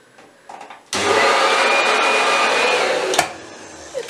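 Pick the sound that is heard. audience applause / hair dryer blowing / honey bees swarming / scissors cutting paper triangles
hair dryer blowing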